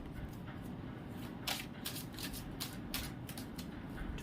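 Tarot cards being drawn and shuffled, giving soft, quiet papery riffles and slides with a few brighter card flicks spread across a low background hum, no voices.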